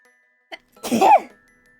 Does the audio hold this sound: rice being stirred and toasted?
no